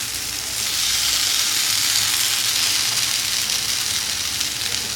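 Cornflour-coated eggplant slices fry on a dosa griddle with a steady, continuous sizzle and hiss that stays fairly even from start to finish, with no talking.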